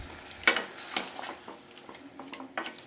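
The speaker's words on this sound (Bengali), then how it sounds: "আর দিয়ে দেব হলুদ, আর স্বাদ মতো লবণ দেব। খুব ভালো করে নেড়ে দেব।" Chili powder, turmeric and salt are stirred into jackfruit and mutton in a pan, giving several sharp scrapes and clinks of a spatula against metal over a soft sizzle, close up with no talking.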